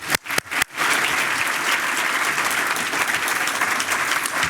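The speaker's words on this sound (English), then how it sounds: "So a round of applause." An audience at a University of California, Merced State of the University event breaks into applause after a few scattered opening claps, then keeps up steady, full clapping.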